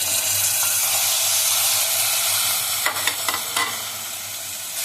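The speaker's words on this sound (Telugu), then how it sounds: "ఇప్పుడు మటన్ వేస్తున్నాను." Mutton frying in a pan with ginger-garlic paste over a low flame for a tamarind-leaf mutton dish: a steady, loud sizzle with stirring scrapes and a few sharper clatters near the end.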